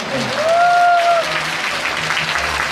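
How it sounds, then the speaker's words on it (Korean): Audience applause at a 2018 Busan welfare demands rally, a steady, dense wash of clapping from a crowd, with a brief tonal whine and faint murmurs beneath. "박수 한번 더 해드릴까요?"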